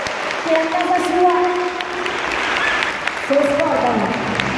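A crowd at a charity soul concert claps for singer Valentina, steady applause running under someone speaking over it.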